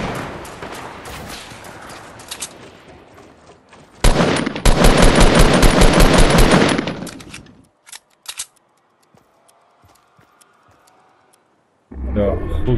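Fortnite gunfire in a loud, dense burst of rapid automatic shots lasting a few seconds, with busier game noise before it, a few isolated shots after, and a quiet stretch before more noise returns.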